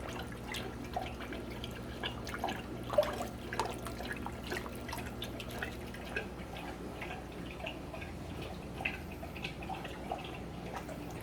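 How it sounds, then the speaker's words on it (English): Exotic aquarium fish in a fish room splash lightly at the water surface while being fed, with scattered small drips and plinks, soft and close, with no voices. "And this tank right here is fun to feed. I'm sure they're gonna splash"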